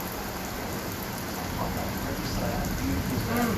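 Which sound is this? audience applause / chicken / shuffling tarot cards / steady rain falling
steady rain falling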